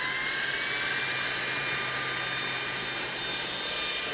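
Cordless 55KPA vacuum cleaner runs on its max setting, a loud, steady high-pitched whine and rushing airflow held close and unbroken with no speech.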